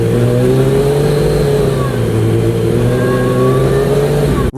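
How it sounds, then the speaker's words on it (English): A Yamaha R1 motorcycle engine drones steadily and loudly at close range while accelerating slowly in gear, holding a smooth, sustained tone without sharp revs. "Accelerate slowly."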